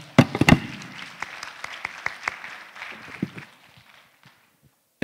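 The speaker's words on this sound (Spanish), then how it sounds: "Un fuerte aplauso a nuestra autoridad" A small audience at a university engineering school anniversary ceremony applauds a former rector with scattered, sparse claps. The clapping starts with a few sharp hits, then thins and fades out to near silence.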